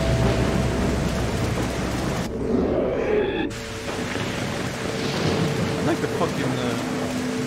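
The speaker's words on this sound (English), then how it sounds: "Rain." Steady rain falls with a rumble of thunder in a Devil May Cry 4 game scene, a continuous wash of noise under a voice that speaks briefly.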